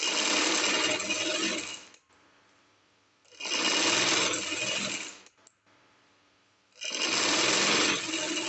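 Sewing machine stitching a decorative design onto a trouser hem, running in three steady bursts of about two seconds each with brief quiet pauses between, close and clear with no talking.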